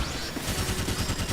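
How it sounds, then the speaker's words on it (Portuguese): Graviton shot fired in the game SAOFB, a rapid burst of repeated punchy gunfire-like blasts over a busy electronic game soundscape, moderately loud with no speech. "Vou já usar também o disparo Graviton aqui para mostrar para vocês como funciona mais ou menos."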